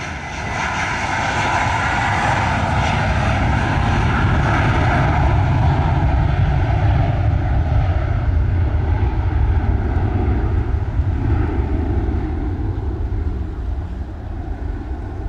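A heavy jet airliner landing at an airport in Jamaica, its engines giving a loud, steady roar that holds for the whole stretch and fades slightly near the end.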